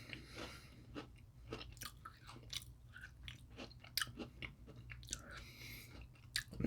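Close, crisp crunching and chewing of a crunchy chocolate-filled snack shaped like a cartoon panda, in quick irregular bites with small sharp cracks, alone without talk.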